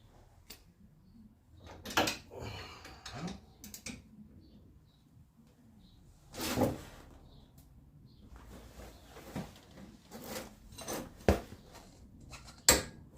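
A torque wrench is tightened on a Corvette brake caliper, giving a few sharp, close mechanical clicks and clunks spread among quiet handling noises, the loudest snap near the end.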